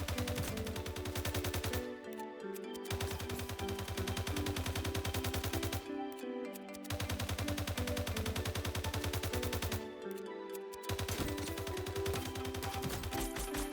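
Automatic gunfire from the video game Fortnite rattles off in long, loud, rapid bursts, broken by about three brief pauses between clips.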